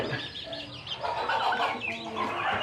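Chickens and young chicks cluck and cheep together inside a goat shed, a dense, continuous chatter of overlapping calls close to the microphone with no talking.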